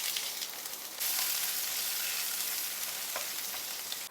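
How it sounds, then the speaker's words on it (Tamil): Ginger fries in a pan with a steady, soft hiss of sizzling oil that swells slightly after the first second and then holds, with no voices. "இந்த ஜிஞ்சரை வந்து அடுத்தது போட்டு ஃப்ரை பண்ணிக்க வேண்டியதான்"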